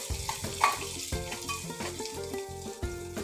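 Cumin, mustard seeds, green chilli and curry leaves fry in a pan, giving a quiet crackling sizzle with irregular pops over a low background hum, no one speaking.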